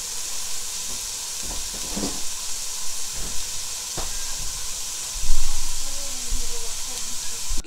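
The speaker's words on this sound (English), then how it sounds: "Okay, so our bacon's fried up." Bacon frying in a pan for homemade potato soup, a constant close hiss and sizzle with scattered pops and utensil scrapes, growing louder and steamier toward the end; no speech rises above it.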